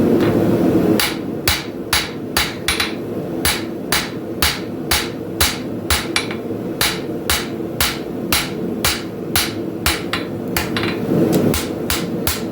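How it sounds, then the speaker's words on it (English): Steady hammer blows forging a Hudson Bay camp knife blade on an anvil, ringing metallic strikes at an even rhythm of roughly one to two per second, close and loud over a low forge roar. "Notice I'm thinning out the tip a little bit more."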